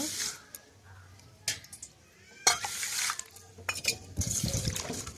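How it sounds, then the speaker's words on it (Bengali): Rice, about 150 grams, is swirled and rinsed with water in a bowl, giving bursts of sloshing and splashing with brief pauses between them, close by and moderately loud. "জল দিয়ে ভালো করে ধুয়ে নেব এইভাবে আমি চালটাকে তিন চারবার ধুয়ে পরিষ্কার করে নেব"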